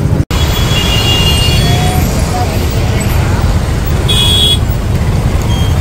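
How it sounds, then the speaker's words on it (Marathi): Dense, heavy traffic on the Nashik highway in India, a loud steady roar of car and bus engines and road noise filling the whole stretch, with a horn-like toot and people talking close by. "इकडे जाम ट्रॅफिक झालेले, फक्त निघून 5 मिनिटं झालेली आम्हाला नाशिक हायवेला टच होऊन."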